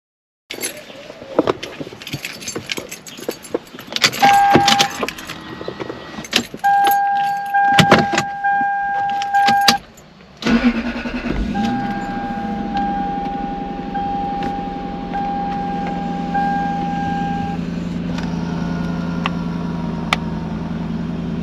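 A Lexus SC430 cranks and starts after an aftermarket install, with keys jangling and electronic chime tones beforehand, then the engine settles into a steady, close idle that continues alone.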